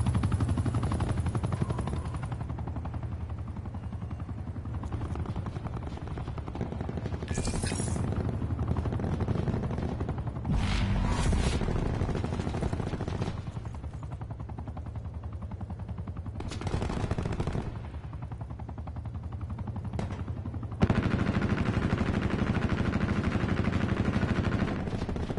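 A hostile attack chopper in a Call of Duty Black Ops 4 multiplayer match, its rotor drone mixed with continuous bursts of machine-gun fire and shots throughout, loud and busy with no talk.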